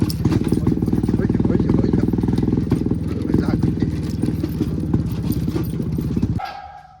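A 1986 Yezdi Classic motorcycle is ridden on a road, its engine thumping steadily and loudly with a rapid, even beat for about six seconds before cutting off abruptly at the end.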